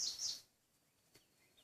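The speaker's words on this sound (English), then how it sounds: "You can hear the birds." Birds chirping outdoors in the mountains, a quick bright burst of high calls at the start, then fading to a quiet, faint background with only a stray distant chirp or two.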